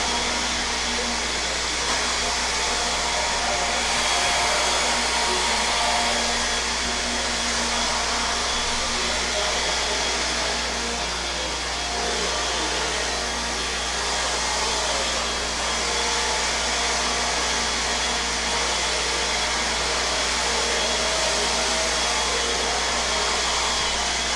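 Electric 17.5-class four-wheel-drive RC cars race a heat, giving a steady, loud, continuous motor whine that holds throughout without talk.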